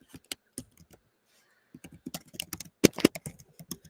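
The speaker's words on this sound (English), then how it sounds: "Let me type that in." Typing on a computer keyboard indoors: scattered close clicking keystrokes, a brief pause, then a faster burst of taps, including a couple of harder louder strikes, with no talk.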